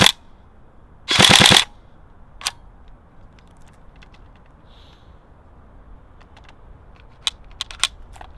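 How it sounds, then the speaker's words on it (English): A Tokyo Marui AK-47 Next Gen Recoil airsoft AEG rips off a short, loud burst of rapid shots, followed by a single crack and a scattering of quieter mechanical clicks and snaps. "I pulled back the charging handle as I pulled the trigger. Bang! It sprung back into life"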